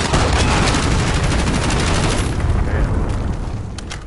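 A cruise missile strike in Call of Duty sends up a loud, continuous roar of explosions mixed with rapid gunfire, with close, dense blasts that thin out and fade near the end.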